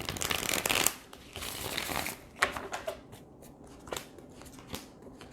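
Tarot cards being shuffled up close: a dense riffling burst, then several quick, crisp flicks and snaps, with no voices.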